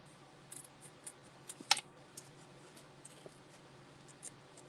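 Scissors make small snips while trimming the edge of a holiday photo card, faint scattered clicks with one sharper cut near the middle in a quiet room.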